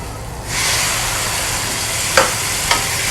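Tomato paste hits a pan of hot spice mix, and a loud, steady sizzle surges up and keeps hissing, with a couple of faint clinks of stirring near the end.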